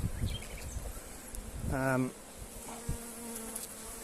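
Honeybees hum from a crowded open hive on a Portuguese farm, a steady close buzz with a brief louder tone swell, while someone talks over it.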